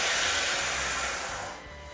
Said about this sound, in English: it's got a release valve. So you can squeeze all the air out